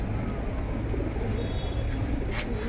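Laldom pigeons cooing softly in a low, steady murmur, with continuous muffled low-pitched coos and a faint busy background throughout.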